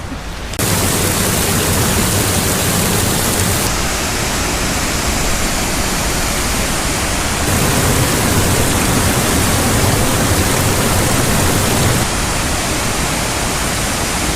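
Upper Falls waterfall roaring steadily nearby, a dense, unbroken wash of falling water that holds loud and constant throughout with no voices.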